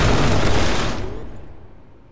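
Sentry turret gunfire in a video game, a loud dense roar of rapid shots that fades away over about two seconds.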